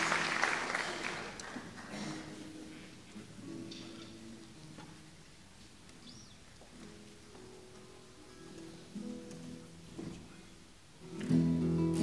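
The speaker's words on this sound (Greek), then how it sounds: "Ένα ακόμα δυνατό χειροκρότημα" Choir festival audience gives applause before a choir from Limassol, Cyprus performs: soft, distant scattered clapping throughout, swelling louder in the final second.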